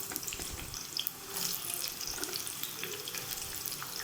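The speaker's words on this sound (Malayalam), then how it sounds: "ഈ സമയത്ത് നമുക്ക് കുറേശ്ശെ മാങ്ങിട്ടിട്ടൊന്ന് വറുത്തെടുക്കാം" Mango pieces fry in hot oil in a pan, a close, continuous crackling sizzle that holds steady throughout.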